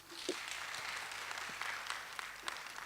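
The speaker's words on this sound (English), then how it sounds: "let's give all of us a round of applause" A round of applause from delegates at a youth summit policy session, a fairly faint, even patter of clapping from a crowd without speech.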